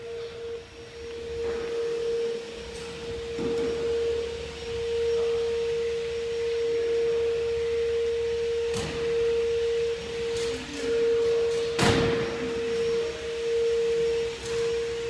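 Laser machine running inside a factory workshop that builds CNC routers and laser machines, giving a steady mid-pitched tonal whine over a constant mechanical hum, with occasional short clicks and clatter.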